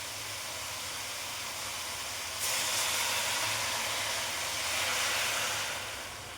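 Water poured into a hot cooking pan of Bengali ash gourd leaf greens, bursting into a loud, steady steam hiss that holds for several seconds after a quieter start, with no voices.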